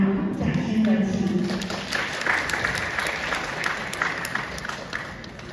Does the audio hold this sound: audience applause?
yes